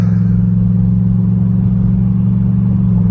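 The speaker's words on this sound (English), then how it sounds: "the power steering pump does whine quite a bit and quite loud" Loud, steady whine from the power steering pump of an Impala SS, a constant tonal drone over the engine's idle rumble, continuous and unchanging throughout with no voices.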